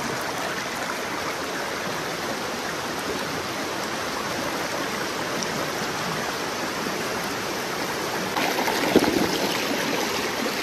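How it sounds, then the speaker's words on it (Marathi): A river running full in rural Konkan, Maharashtra, gives a steady, loud, unbroken rushing wash with no pauses or other sounds. "पाणी भरपूर आहे नदीला"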